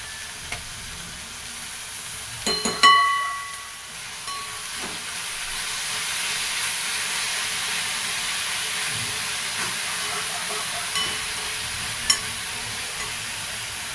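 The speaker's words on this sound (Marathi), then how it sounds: "त्याला परतून घ्यायचं तेला त्याला भाजीला कांद्याच्या पातीला आणि मिरचीला" Spring onion greens and green chilli sauté in oil, a soft, steady sizzling hiss with a few brief clinks of a utensil near the start.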